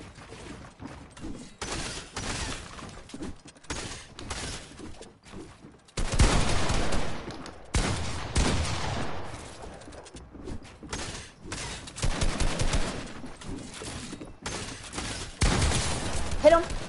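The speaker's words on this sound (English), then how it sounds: "Hey, come on, bro, shoot the shotgun." Shotgun blasts in Fortnite arrive as a string of loud, sharp bursts at irregular intervals, several heavy shots among quieter game noise.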